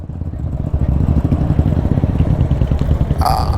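A motorcycle engine runs close by with a steady, rumbling mid-pitched drone and a rattly pulse, ending in a brief sharp clatter and no clear speech.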